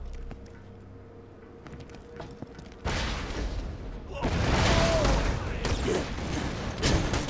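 Gunfire and grenade blasts from the video game Borderlands 2, with quieter clicks and shots at first, then dense, loud bursts of shooting and explosions filling the second half.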